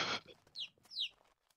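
In a video game, a faint noise burst, then two short high-pitched chirps a moment apart, bright and thin like a small chick peeping, quiet and fairly close.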